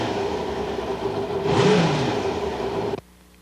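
A 1991 Kawasaki Ninja ZX-7 motorcycle engine runs steadily with a brief blip of revs midway, then cuts off abruptly near the end, leaving near silence.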